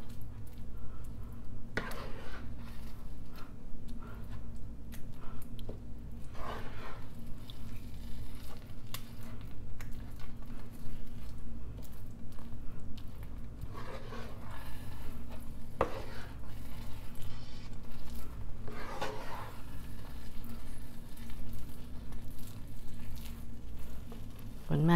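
A spoon stirs a filling mixture for sticky rice in a pan until it dries, a steady soft scraping and faint sizzle running throughout with a few sharper clinks, under a person talking.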